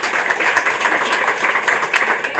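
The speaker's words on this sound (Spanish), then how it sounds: "Denle un aplauso al Rey de Gloria" Congregation in a church service giving applause, dense steady clapping close and loud, sustained without pause for a couple of seconds.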